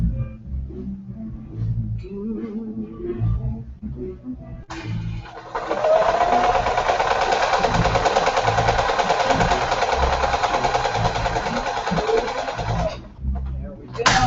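A sewing machine stitches a quilt seam for a Memorial Day quilt, running in one steady, loud, continuous burst for about eight seconds after a stretch of quieter room sound with talk.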